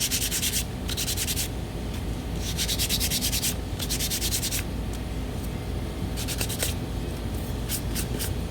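Sandpaper is rubbed by hand across a painted wagon surface in rhythmic bursts of gritty scratching, with short pauses between strokes and a steady hum of background noise underneath.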